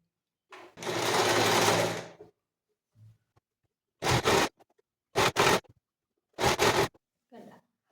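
Sewing machine stitching the turned-under hem of a cloth sleeve, running in one long burst then several short bursts with pauses between, close and loud.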